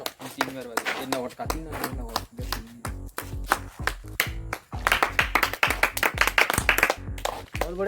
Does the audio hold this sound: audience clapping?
yes